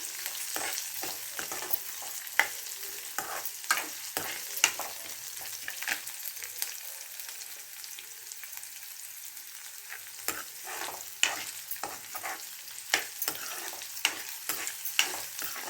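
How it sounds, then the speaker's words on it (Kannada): Onions frying in a pan with cumin and garlic, a continuous close sizzle broken by repeated sharp scraping and stirring strokes at an uneven rhythm, no voices. "ಆನಿಯನ್ ಚೆನ್ನಾಗಿ ಟ್ರಾನ್ಸ್ಪರೆಂಟ್ ಆಗೋವರೆಗೂ ನೀವು ಫ್ರೈ ಮಾಡ್ಕೋಬೇಕಾಗುತ್ತೆ"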